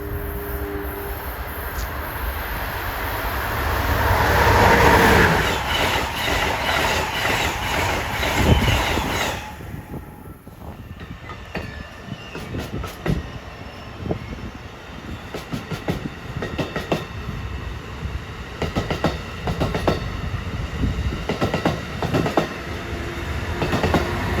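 A passenger train rushes through Princeton Junction station, a loud roar at first that gives way to a long run of rhythmic clickety-clack from the wheels and passing cars, with no talk.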